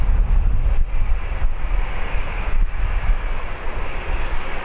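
A Jet2.com airliner at Birmingham Airport gives a continuous, loud engine roar with heavy wind buffeting on the microphone, steady throughout the few seconds with no talking.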